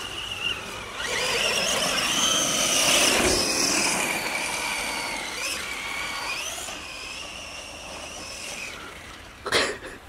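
A small electric RC car whines at full throttle, its motor pitch rising and falling as it speeds and jumps over ramps, close and loud, ending with a sharp impact.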